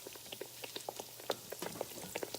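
Homemade donuts frying in hot oil in a pot, giving faint, quick bubbling pops and light spattering in an irregular patter at close range.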